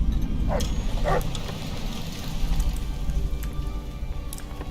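Hound dog barking in the Fallout: New Vegas video game, a couple of short barks early on over a steady low rumbling background with no talk.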